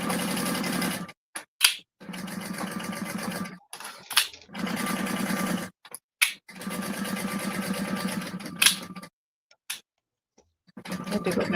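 A sewing machine tacks piping on a bag in several short bursts of rapid ticking stitches separated by pauses, close and fairly quiet.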